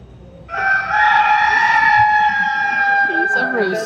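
Mechanical rooster on the Messina bell tower clock in Italy crowing once, a loud, sustained metallic cock-a-doodle call lasting about three seconds, with distant crowd voices starting up at the end.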